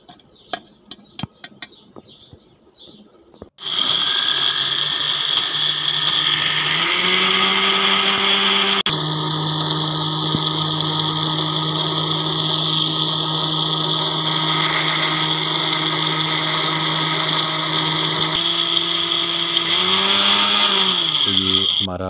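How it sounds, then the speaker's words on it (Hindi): An electric kitchen grinder whirs loudly and steadily as it grinds dried onion into powder. The high motor tone shifts pitch now and then while the load changes, with a few short knocks before it starts. "जो बाकी बचेगा इसको दोबारा फिर एक दफ़ा ग्राइंड कर लेंगे।"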